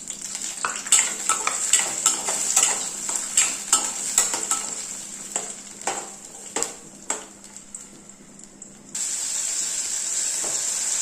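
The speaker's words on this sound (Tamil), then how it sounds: "இதை இப்போ எண்ணெயில் கொஞ்சம் வறுத்து எடுத்துக்கலாம்." Crushed green turkey berries (sundakkai) frying in oil in a pan, with a steady hiss of sizzling under repeated clinking stirs and scrapes of a utensil, then a louder, more even sizzle near the end.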